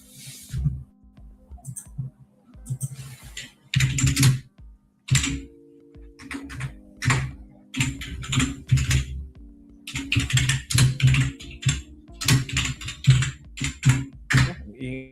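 Close, busy typing on a computer keyboard, bursts of rapid key clicks and thunks separated by short pauses, with a faint voice in the background.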